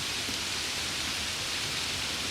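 Rain falls in a steady, dense hiss that stays at an even level throughout, with no other sounds and no speech.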